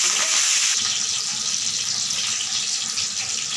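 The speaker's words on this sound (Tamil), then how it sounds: "மீன் பொரிக்கிறதுக்கு சோம்பு மீனுக்கு போட்டு பொரித்தோம்னா செம்மையாக இருக்கும்" Fish frying in hot oil with fennel seeds and curry leaves, a steady close hiss and crackle of sizzling that holds evenly throughout without a break.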